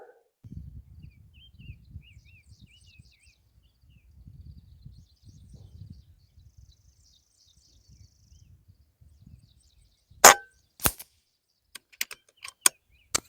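Kral Puncher Knight .22 unregulated air rifle firing outdoors, a series of sharp, loud cracks spaced seconds apart after a quiet stretch of faint breeze, insects and birds.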